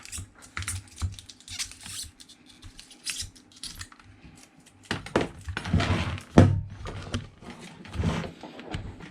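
Plastic wrap is torn open on a Promovec 36V e-bike battery pack, producing crackling, scratchy rips in irregular bursts that grow louder and rougher midway, close up and with no voices.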